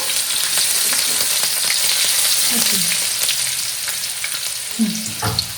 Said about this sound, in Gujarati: હવે એમાં આપણે નાખશું લીલા મરચા. થોડું એક મિક્સ કરી લેશું.